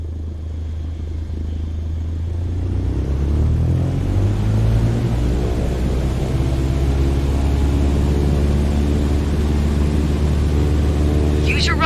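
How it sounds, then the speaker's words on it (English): Light aircraft engine in Microsoft Flight Simulator running at full power for takeoff, a loud steady droning roar that rises and holds, with the engine note climbing as speed builds along the runway. "Apply full power and I'll walk you through the takeoff as we go."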